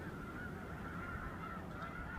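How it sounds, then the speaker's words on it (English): Snow geese honk over a reservoir in cold weather, a dense, continuous chorus of calls blended with steady distant background noise. "it was big white birds, like these snow geese"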